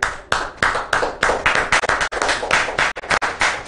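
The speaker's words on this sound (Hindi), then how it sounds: "उन सब के लिए बहुत सी तालियां।" Close, loud clapping from a small group at a television programme, honouring the crew members. The claps are uneven and fairly sparse and continue steadily throughout.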